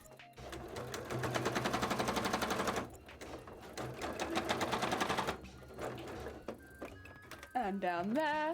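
A sewing machine stitches cosplay scales in loud, rapid bursts that stop and restart, with brief talk between runs and a short whistle-like tone near the end.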